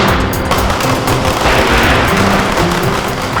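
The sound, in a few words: firecrackers going off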